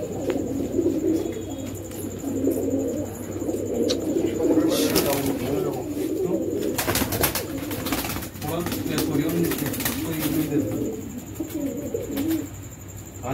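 Pigeons coo in a low, continuous murmur at the Old Delhi pigeon market, with wing flutters in bursts and people talking in Hindi over the birds.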